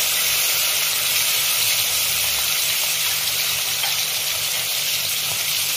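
Chili paste hits hot oil in a pan of hilsa and eggplant curry, giving a loud, steady hiss and sizzle that fills the whole stretch without letup and with no talking.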